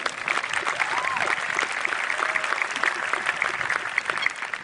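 Steady, dense applause from a graduation crowd at a stadium, continuous and moderately loud for several seconds, with faint whistles or cheers rising briefly through it.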